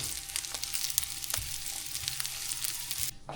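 Food crackles and sizzles in hot oil in a frying pan, a soft, steady spatter with scattered pops and clicks throughout, ending with a short clatter.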